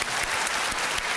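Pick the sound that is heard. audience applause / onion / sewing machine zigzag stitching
audience applause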